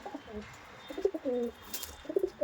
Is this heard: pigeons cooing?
yes